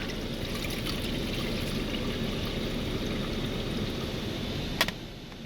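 Tap water pours steadily into a water filter, a continuous close rushing stream that holds level throughout, with a brief knock near the end.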